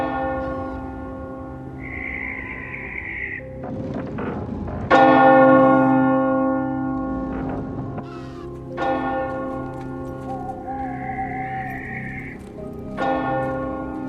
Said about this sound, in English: I don't want to go bell ringing.